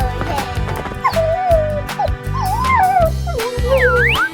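Cartoon dog yips and barks in a 3D animal slide game, several short bright calls and a whimper-like tone over bouncy game music with a steady beat.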